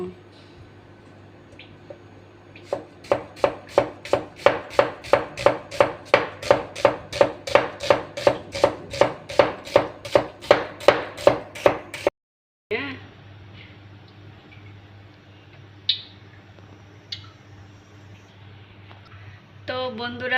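Onions and chilies chopped with a knife on a board in a steady, fast rhythm of sharp close thuds, about twenty in a row, then a pause and a few scattered knocks and scrapes.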